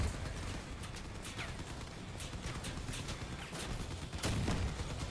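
Rapid bursts of cannon fire in a video game, a dense string of booming shots with clattering impacts running under the game's background.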